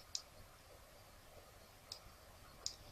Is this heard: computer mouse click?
yes